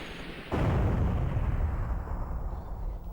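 An explosion bursts in the Resident Evil: Survivor video game with a sudden loud boom, then a long roaring rumble that stays heavy and close before tapering slightly.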